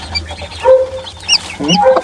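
Chickens cluck nearby in short, uneven bursts, several birds calling over each other against a quiet background.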